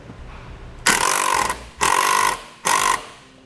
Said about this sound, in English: we'll take our long self-tapping screw, a washer, put it on a 5/16 driver, and we will go into the hole that we drilled